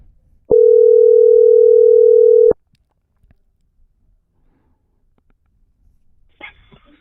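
A steady tone from a phone call placed back to a business line, droning loud and unbroken for about two seconds, followed by near silence and a faint click.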